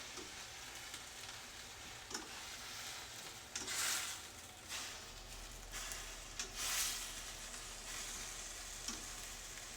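Sausage and broccoli with half a cup of wine added, sizzling in a pan while being stirred, a steady quiet frying hiss broken by a few louder scraping stirs, close and without voices.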